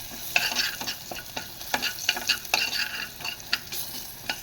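Garlic frying in ghee, stirred in the pan, gives a soft sizzle broken by repeated scraping strokes of the spoon, close up with no voices.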